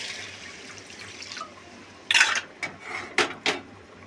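Water goes into a pan of oil-fried spices for a sarputi fish curry, a close sizzling hiss for the first second or so, then several sharp clinks and scrapes of a utensil against the pan.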